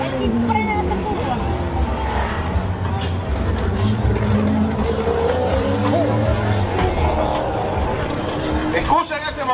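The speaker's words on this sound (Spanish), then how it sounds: "Escuchen ese motor, aquí en la recta principal." A race car engine roars along the main straight of a circuit in Panama, a loud, sustained drone with shifting pitch, under a person talking excitedly.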